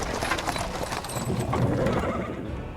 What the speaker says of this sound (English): He is interrupted by the sound of wheels rolling on the pavement stones.